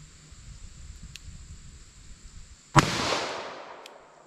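A single .44 Special revolver shot fired with a hard cast bullet at an outdoor range, 75 yards from the target: one sharp, loud crack after quiet, with a short echoing tail.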